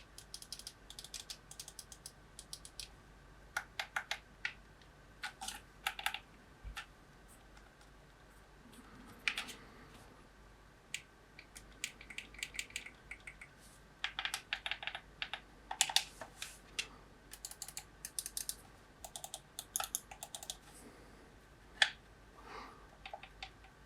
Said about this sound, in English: let you listen to how the buttons sound